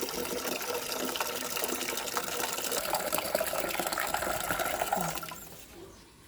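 Water gushes and splashes steadily while vegetable plants are watered in the evening, a broad continuous pour that holds for about five seconds and then drops away to a quieter trickle.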